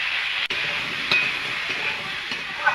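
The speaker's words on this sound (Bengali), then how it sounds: "কড়াইতে তেল রয়েছে, আমি তেলে কপিগুলো দিয়ে দেবো।" Kohlrabi pieces sizzle in hot oil in a wok, a steady broadband frying hiss that runs throughout with a few brief stirring clinks and pops, close and fairly loud with no talking.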